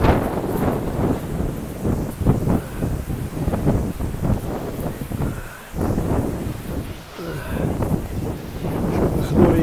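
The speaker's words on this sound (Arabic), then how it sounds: "شوفوا العاصفة" Storm wind buffeting the grounds of a hotel, a steady rushing roar with gusty surges and microphone buffeting, plus faint rustling, continuous throughout.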